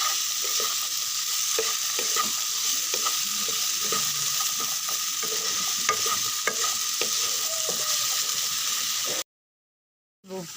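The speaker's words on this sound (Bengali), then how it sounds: "কড়াই একটু তেল দিব, আলুগুলো ভেজে নেব।" Potatoes frying in oil in a kadai with salt and turmeric, a steady close sizzle with occasional stirring scrapes throughout, then cutting off abruptly near the end.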